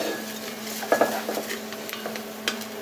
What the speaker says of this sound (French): Là on entend ça rissole.